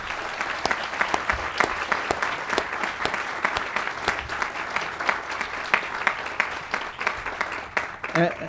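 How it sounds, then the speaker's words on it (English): Dense applause from a crowd at a ceremony launching the Ranger Hall renovation, honoring Dick Harrington; loud, sustained clapping throughout without a pause. "Please, a round of applause for Dick Harrington"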